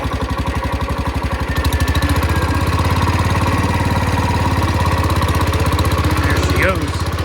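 An old Cub Cadet lawn tractor engine runs steadily in third gear with a little throttle, giving a loud, continuous, throbbing drone from start to finish.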